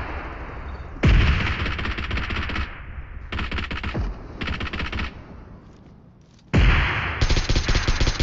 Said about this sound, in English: They're shooting at you from southwest.